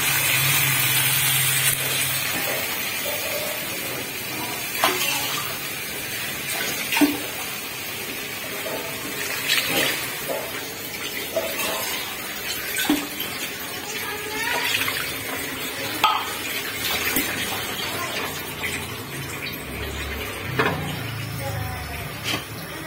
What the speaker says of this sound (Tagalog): Lagyan lang natin ng dalawang ganitong tubig